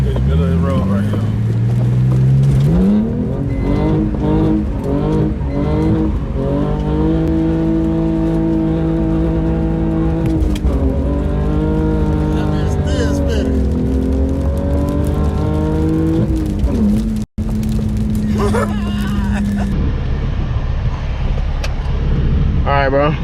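BMW E46 drifting and spinning on a wet street, its engine revving hard with rising and falling pitch sweeps and sustained high-rpm wails, loud and close throughout, with a brief sharp break near the end and voices talking over it.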